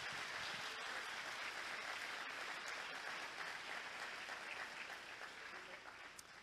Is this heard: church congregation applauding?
yes